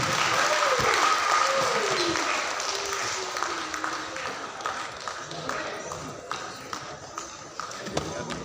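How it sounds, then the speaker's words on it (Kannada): Audience applause welcoming a Swamiji to the stage at a folk dance world-record event, a dense wash of clapping filling the whole stretch, loud at first and thinning slightly toward the end. "ನೀವೆಲ್ಲರ ಚಪ್ಪಾಳೆಯೊಂದಿಗೆ"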